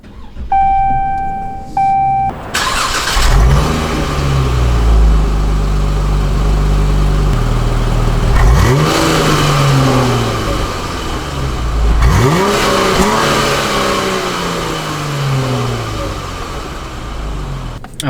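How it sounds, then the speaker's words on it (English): A Dodge Challenger GT rental with a V6 of about 305 horsepower starts up after a warning chime, then settles into a loud, close idle broken by two sharp revs that rise and fall away. "Okay, let's turn the car on."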